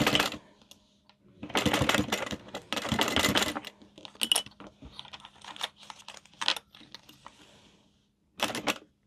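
A sewing machine sews dice trim onto a crossbody bag in bursts of rapid rattling stitching, with pauses, light clicks and handling sounds in between.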